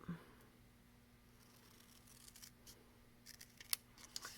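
Scissors cut card stock for a pop-up window card, a few faint, quick snips near the end after a quiet stretch.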